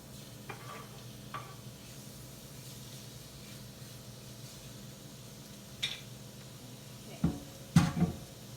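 Low, steady sizzle of chicken frying in a pan, broken by a few clanks and scrapes of a utensil stirring near the end.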